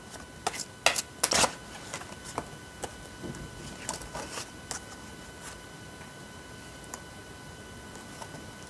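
Tarot cards are shuffled and drawn close by: a cluster of quick riffling flicks, then scattered soft taps and slides that fade into near quiet.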